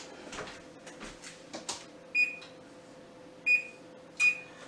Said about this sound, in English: So I'm going to put my timer on.